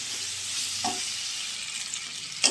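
Pumpkin and potato pieces with salt and turmeric fry in a pan under a broad, even hiss, with a couple of brief spatula knocks, the last one louder near the end.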